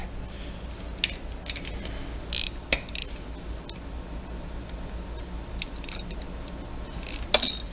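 A ratchet tightens a bolt on a motorcycle clutch slave cylinder. It gives a handful of sharp, close metallic clicks and ticks in short, uneven bursts over a quiet background.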